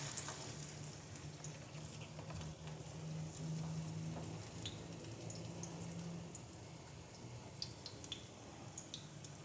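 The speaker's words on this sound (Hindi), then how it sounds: "इसको तलना शुरू करते हैं।" Mung dal kebabs frying in hot oil in a frying pan, a soft, steady sizzle with scattered light pops and crackles, fairly faint and continuous without talk.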